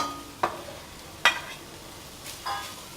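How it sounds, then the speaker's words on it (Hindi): Chopped carrots stirred in a pan for a spring roll filling, heard as three separate spatula scrapes spaced about a second apart over a quiet background. "अब इसमें ये गाजर डालूँगी।"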